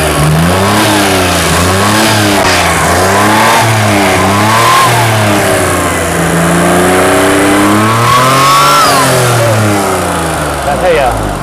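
1987 Daihatsu Charade G11R Turbo engine revving up and down repeatedly, close and loud, with rising and falling pitch sweeps and a faint whine on top.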